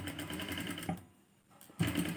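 A sewing machine stitches piping onto a blouse, running in a steady whirring burst, pausing briefly, then starting again close and moderately loud.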